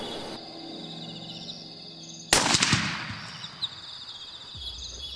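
A single loud rifle shot rings out at close range while hunting a leopard in the Nuanetsi bush, a sharp crack followed by a rolling echo and decay, with insects chirping steadily in the background.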